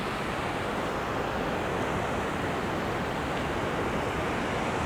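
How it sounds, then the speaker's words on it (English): The Lechwehr weir sends a steady, dense roar of rushing water without a break, loud and close, with no voices over it. "this beautiful waterfall-like structure, which we call the Lechwehr"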